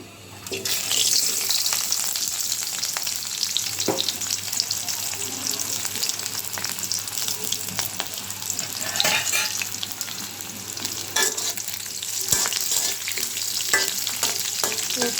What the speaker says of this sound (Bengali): একটু লাল করে বেজে নেব পেঁয়াজটা